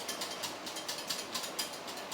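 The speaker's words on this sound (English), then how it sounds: "Whisking all the time, you must keep whisking now." Lemon juice is whisked steadily into an egg mixture for Greek avgolemono soup, giving a fast, even, rhythmic metallic scraping that stays close and continuous, with no voices.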